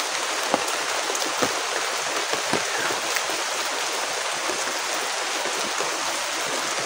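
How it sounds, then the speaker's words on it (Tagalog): Steady rain falls in the Philippines while someone shelters under cover, a dense continuous hiss with scattered louder drips and splashes throughout, fairly close, with no voices. "Grabe guys, naabutan talaga ako ng ulan dito."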